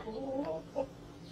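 A bangkok rooster being injected with a vaccine gives a few soft, close clucks. They are short and faint, and there are no voices.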